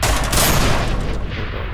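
Loud, dense burst of rapid gunfire from a blowback gun in People Playground, a continuous close fusillade that fades out at the end.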